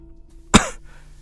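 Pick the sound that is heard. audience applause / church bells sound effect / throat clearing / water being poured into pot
throat clearing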